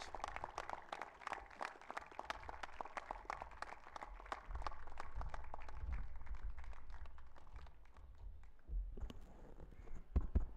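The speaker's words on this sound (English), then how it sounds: "May we have a huge round of applause for Arnav as he comes up on stage" A school opening-ceremony audience applauds as a student organiser walks up on stage. The clapping is sparse and rhythmic, then turns into a looser wash of applause, faint and somewhat distant.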